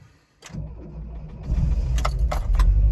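A 1987 VW Vanagon engine cranks and catches from cold, a brief starter whir giving way to a loud, rough idle close by, with light metallic clatter over the running motor.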